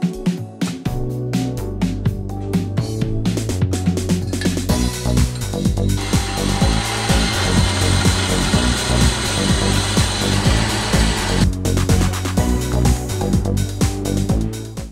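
Power tools cut and grind steel while fabricating a frame for a nitrous bottle on an LS1-swapped Toyota Cressida, a loud continuous burst of machining over rhythmic music, with the harsh whine rising in the middle section.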